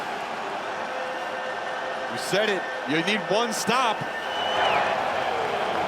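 Stadium crowd roars steadily at a 2024 college football game between Georgia Tech and Syracuse on third down, a constant wash of noise running beneath a commentator's voice throughout.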